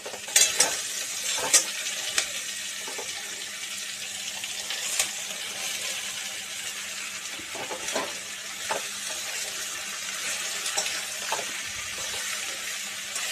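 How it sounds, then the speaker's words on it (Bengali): Bottle gourd and potatoes stir-fry in a pan with a constant soft sizzle, while a spatula scrapes and clatters at intervals, close by with no voices. "আলুগুলো নাড়িয়ে চাড়িয়ে একটু তারপরে ঢাকা দিয়ে দেবো"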